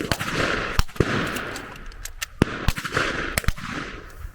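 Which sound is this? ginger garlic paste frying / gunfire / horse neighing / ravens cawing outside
gunfire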